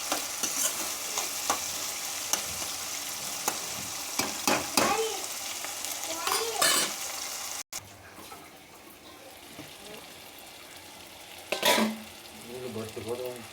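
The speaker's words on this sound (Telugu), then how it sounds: "సాఫ్ట్గా మగ్గేంత వరకు ఆయిల్లోనే ఇలా ఫ్రై చేసుకుంటూ ఉండాలి" Egg and potato curry fries in oil in a pan, a continuous sizzle with repeated scraping stirs of a spoon, loud and close at first, then a quieter steady fry with a few more scrapes.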